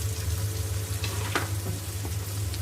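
Tomatoes sizzling in kadhi in a pan, a soft, steady frying hiss with a low hum beneath and a faint stirring scrape partway through.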